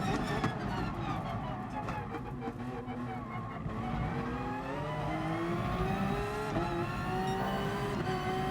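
Race car engines in the GT Sport video game howl loud and close, pitch rising and falling through gear changes while other cars drone alongside in a continuous, layered roar.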